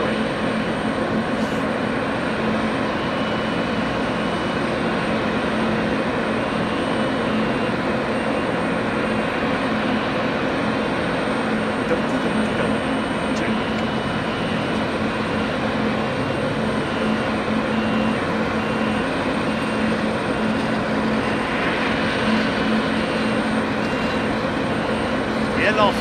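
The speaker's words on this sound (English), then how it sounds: "Waiting for this 737 to roll past before they can make their way out" A Boeing 737 taxiing past at Anchorage airport gives off a continuous, moderately loud engine whine and rumble at mid-distance, with a voice talking over it.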